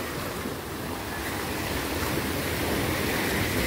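Sea surf surges constantly onto a crab-dotted shore, a dense, loud, unbroken roar of breaking water with wind mixed in and no voices.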